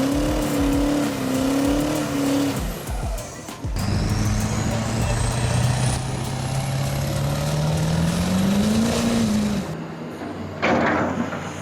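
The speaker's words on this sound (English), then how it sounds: "D-Max 1 monster roared like a wild beast, charged at 2 cars, and performed a spectacular tire burnout." A D-Max monster truck roars at full throttle and spins its tires in a burnout on a dirt course, the engine note climbing and falling loudly for several seconds before cutting off abruptly.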